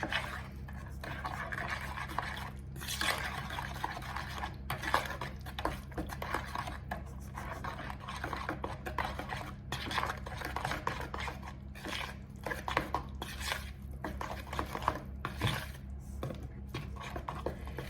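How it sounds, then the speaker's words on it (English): Flour being stirred into apple muffin batter in a bowl, a steady scraping and clinking of a utensil against the bowl that runs continuously with frequent small knocks, near and moderately loud. "flour part by part, not everything straight away, and just stir and mix together"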